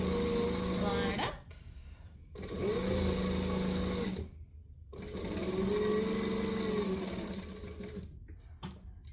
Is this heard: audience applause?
no